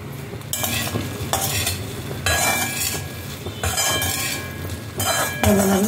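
Okra frying in a pan with chili powder for a South Indian vendakkai curry, a steady sizzle with a spoon stirring and scraping and occasional metal clinks, close and continuous.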